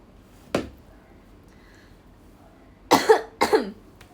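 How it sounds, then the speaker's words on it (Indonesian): One short cough, a pause, then two sharper coughs in quick succession, close by in an otherwise quiet room. "Itu batuk yang benar."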